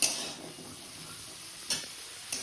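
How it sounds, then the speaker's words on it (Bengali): Soft steady sizzle of vegetables lightly frying in a pan for chicken stew, faint and even, with a couple of brief utensil taps. "এবারে একটু হালকা ভাজা ভাজা করে নেব।"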